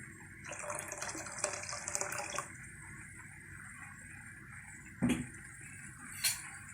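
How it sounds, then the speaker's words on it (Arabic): Water pours into a pot of tomato sauce while cooking a pasta casserole, a steady running gush for about two seconds, then quiet with a couple of brief clanks or splashes. "انا هحط عليها ميه"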